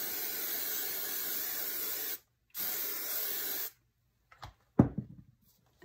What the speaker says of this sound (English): You are going to spray it with hairspray.